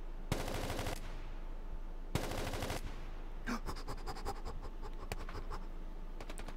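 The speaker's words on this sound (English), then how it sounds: "I'm burst firing." Bursts of rapid automatic gunfire from a shooter video game, several short volleys in quick succession followed by scattered single shots, moderately loud with no talking.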